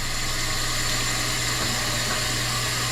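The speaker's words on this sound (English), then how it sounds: "my water heater has just come on" A household water heater runs with a steady mechanical hum, a low tonal drone and a broad hiss above it, running evenly throughout with no talking.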